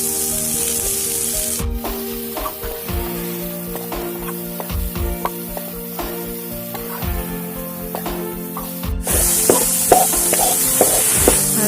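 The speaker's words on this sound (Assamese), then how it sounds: "এতিয়া এইখিনি ভাজি ল'ম" Taro stems sizzle in hot oil in a pan. The frying hiss stays steady and close, broken by occasional scrapes and stirs of a utensil, with no talking.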